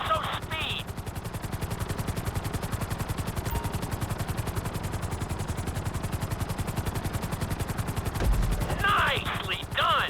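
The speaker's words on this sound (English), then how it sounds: "we'll see how well you handle the chopper" A helicopter in Grand Theft Auto V flight school gives a loud, continuous, rapid rotor chop all the way through. Brief bursts of other game sounds come near the start and the end.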